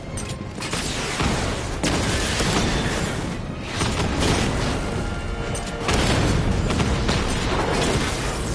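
A Rattler vehicle explodes in Batman: Arkham Knight, a loud sustained roar of booms and crashing debris with several heavy bursts rolling across the game action, no voices heard.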